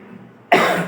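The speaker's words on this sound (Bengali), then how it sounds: "দুঃখিত আমার একটু কাশি হয়েছে, মাঝামাঝি কাশছি" A single sharp cough bursts out close to the microphone, loud and brief after a quiet moment of low background hum.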